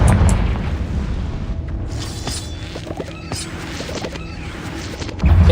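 A Confringo fire spell blasts in Hogwarts Legacy inside a cave, a loud low boom followed by a rumbling, crackling decay with scattered debris clatter and a second heavy thump at the end.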